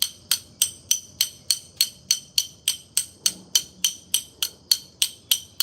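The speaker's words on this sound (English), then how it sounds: "Always use your other ratchet for a hammer." A metal ratchet serves as a hammer, striking a rusted part in a steady run of about sixteen sharp, ringing metallic knocks, evenly spaced and close, with no talk over them.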